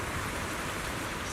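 Steady rain falling in the video game Zenless Zone Zero, a dense, even hiss of downpour with no breaks, moderately loud and heard alone.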